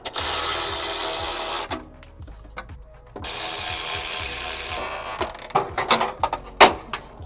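Power tool whirring in loud bursts while removing bolts from a car fender, two long sustained runs separated by gaps, followed by shorter clicks and clanks of loosened hardware.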